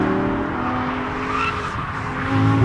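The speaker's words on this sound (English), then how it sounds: "this V10 sounds fantastic" A loud Lamborghini Gallardo V10 engine roars at high revs, holding a steady tone before rising, with some tire noise underneath.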